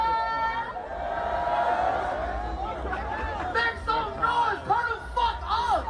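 Large festival crowd at a Rolling Loud concert roars and chatters in a continuous loud wash of voices and shouting, with scattered cheers rising above the din.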